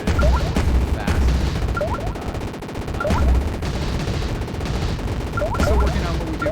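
Rapid, continuous shooting in a spaceship shooter game, a dense stream of punchy blasts with bright chirping effects recurring every few seconds, loud and up front.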